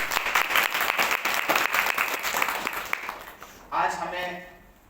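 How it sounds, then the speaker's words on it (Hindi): A church congregation at an Easter Sunday worship service claps loudly and steadily for several seconds before the applause dies away and a voice begins speaking. "एक बार जोरदार ताली बजाएंगे।"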